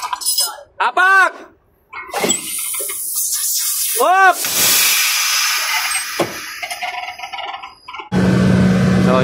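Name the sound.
hissing air leak from truck air brake chamber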